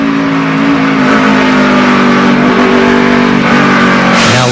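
NASCAR Nationwide race cars at Richmond International Raceway during the 2011 Virginia 529 College Savings 250 roar loudly and continuously, engines droning at high revs with a rising pitch sweep near the end, no talking.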